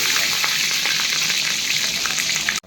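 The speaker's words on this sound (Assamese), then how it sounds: "তেল গৰম হৈ গ'ল, এতিয়া পিঁয়াজ জলকীয়া দিম" Onion and green chilli fry in hot oil in a wok, a loud, dense sizzle with crackling spatters that runs steadily before cutting off abruptly.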